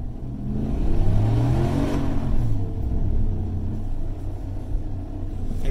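Exhaust of a 2020 Chevy Silverado Trail Boss with its muffler and flapper deleted, revving hard to about 3,000 RPM in second gear, with a loud, deep rumble that rises and stays steady, and no talk.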